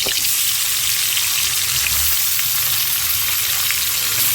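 Koi fish fry in hot oil with a loud, continuous hiss and sizzle that stays close and constant from start to finish, without any talking.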